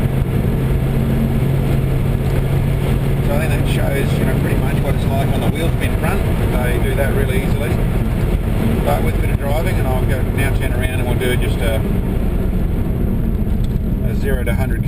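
A supercharged 5.0 litre Holden engine pulls hard under acceleration, a loud sustained roar with wind noise inside the car, and a person talks over it.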